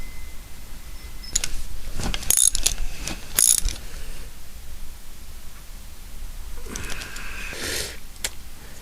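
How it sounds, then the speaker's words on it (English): Hand tools bolting the cylinder onto the crankcase of a British Seagull Plus 40 outboard engine, a few sharp metallic clicks and ratchet bursts over quiet room hiss, separated by pauses. "Cylinder fitted to the crankcase. Just bolt it all up now."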